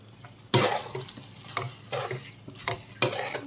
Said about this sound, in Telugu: మంచి కలిసేలాగా కలుపుకుందాం